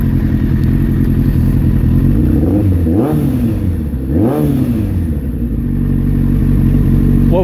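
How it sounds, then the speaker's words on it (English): A Suzuki Bandit 1200 motorcycle engine idles loudly and is revved twice in quick succession, each rev rising and falling before settling back to a steady rumble, with no talking. "What would a video like this be without revving up the engine?"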